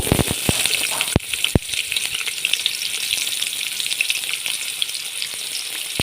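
Potatoes frying in hot oil in a pan for a Bengali pointed gourd and prawn dish: a steady high sizzle with a few sharp crackles and pops early on, no talk.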